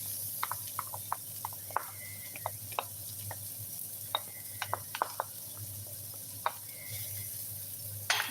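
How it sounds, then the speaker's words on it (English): Garlic and onions sauteing in a pan, a soft steady sizzle with scattered ticks and scrapes from stirring, close and fairly quiet, without talk. "give it a mix and allow it to saute"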